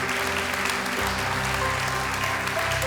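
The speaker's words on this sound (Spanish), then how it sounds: "Denle un fuerte aplauso al Señor." A church congregation claps loudly and steadily for about three seconds during a worship service. Sustained, dense applause fills the room, with faint held tones underneath.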